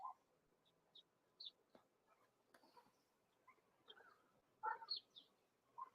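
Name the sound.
chickens clucking in the background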